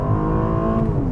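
A 2012 Mercedes E 350 Cabriolet accelerates hard at speed, its engine giving a loud, steady, close rising roar with no voices.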